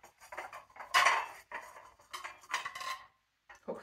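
Ceramic plates and dishes clinking and knocking together while a sideboard cupboard is sorted, several sharp, close rattles in quick irregular bursts with short pauses between them.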